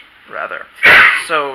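Amid a podcast-style interview, a person lets out a single loud, sharp sneeze close to the microphone, framed by brief talk just before and after.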